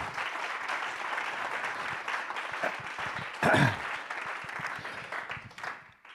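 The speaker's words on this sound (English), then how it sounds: "Can we give him a round of applause?" Audience applause after a talk at a conference session, a steady wash of many hands clapping at moderate distance, swelling briefly near the middle before fading toward the end.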